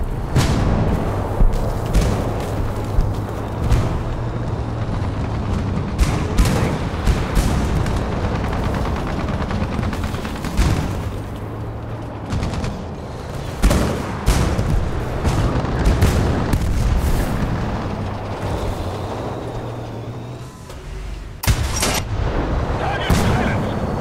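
Gunfire and artillery boom through a War Thunder battle, with dense repeated shots and heavy blasts and a low engine drone underneath, loud and continuous for the whole stretch.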